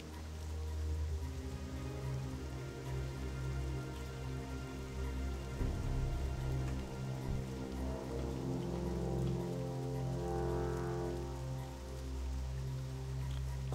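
Steady rain falls in the Wetlands of WoW Classic, a soft continuous patter and hiss on surfaces, fairly quiet and even throughout with no voices.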